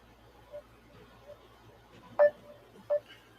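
Facebook Messenger video call ringing tone, a few short electronic beeps spaced irregularly over a faint low background hum, with the two loudest chirps near the end and no talking.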